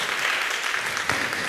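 A church congregation claps after a pastor shares news of a coming baby, a brief, even wash of applause from a room full of people.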